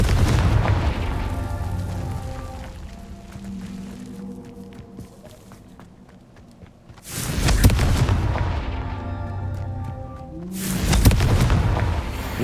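The Confringo blasting spell from the Hogwarts Legacy video game lands as a loud, booming explosion, followed after a quieter stretch by a second deep blast, each with a rumbling tail, set over a background music bed.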